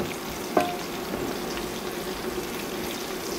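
Garlic, onion and chili sizzling in a pan: a steady, even frying hiss runs throughout at moderate level, with one brief sharp tap near the start.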